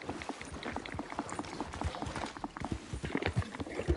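Horse hooves clip-clopping in the video game Red Dead Redemption, a rapid, steady galloping patter of hoofbeats heard close and fairly loud with no talk over it.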